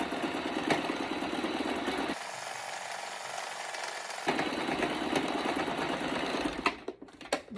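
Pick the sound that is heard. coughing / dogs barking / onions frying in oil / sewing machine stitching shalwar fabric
sewing machine stitching shalwar fabric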